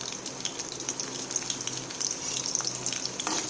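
Green chillies fry in hot oil for gobi 65, giving off a close, continuous crackling sizzle with small bubbling pops, alone and without talk.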